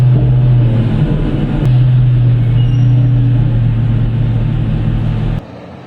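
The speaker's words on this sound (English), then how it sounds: "a mining shovel built to keep some of the world's biggest haul trucks moving without pause" Hitachi EX2600 mining shovel working in an open-pit mine, a loud, steady low engine rumble with a deep droning hum that holds unbroken and then cuts off abruptly near the end.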